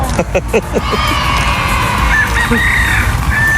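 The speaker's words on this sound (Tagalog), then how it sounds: "Tapos ang daming manok. Ayan, yung maliliit na manok." Outdoor scene with small chickens clucking and a rooster-like call in the background, steady ambient noise throughout, with a few brief higher calls near the end.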